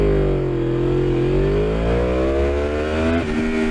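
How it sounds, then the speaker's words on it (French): A 2024 Yamaha R1 superbike with a CP4 engine, 200 hp and 200 kg, launching along a straight from 0 to 100: loud, close engine revs climbing steadily in pitch, then a brief dip at a gear change before rising again. "je vais vous faire un petit 0 à 100 sur cette ligne droite"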